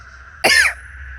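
A single sharp, loud human cough bursts out briefly from a quiet background with a steady low hum, no talking around it.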